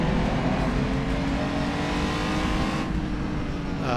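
A 1950s-style race car in a racing video game roars loud and steady at high revs, with the engine note shifting slightly as it downshifts for a corner.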